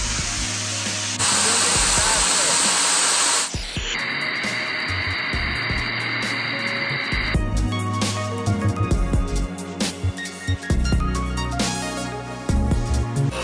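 A 60,000 PSI waterjet with garnet abrasive blasts a massive spinning industrial steel bearing: a loud, steady roaring hiss for about two seconds, then a sustained whining tone with rattling, clattering knocks as the bearing keeps turning.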